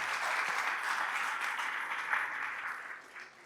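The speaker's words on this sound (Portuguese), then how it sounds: "Vamos ter um salve de palmas pela vida deles" Church congregation applauding during a Lord's Supper service, a steady, full wash of many hands clapping together that tapers slightly at the end.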